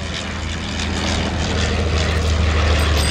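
A Fokker D7 World War I biplane flying at Sywell Airshow, a loud continuous propeller engine drone that swells slightly as it passes, with no voices.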